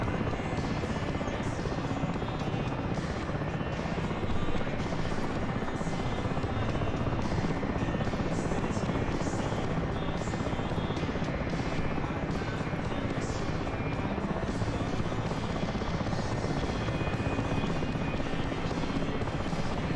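A helicopter in the DCS flight simulator game, a constant loud rotor thrum and turbine whine running unbroken through the whole stretch, close and steady.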